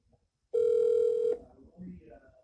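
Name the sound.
telephone ringing on an outgoing phone call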